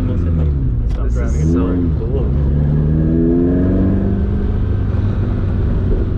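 An SR20-swapped Datsun 2000 Roadster engine drones steadily while driving, its rising harmonic tone climbing through the revs, close and loud throughout.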